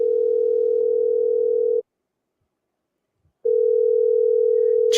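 A telephone ringback tone plays while a call-in show host dials a caller: two long, steady, loud tones separated by a gap of about a second and a half of silence, with no talk over it.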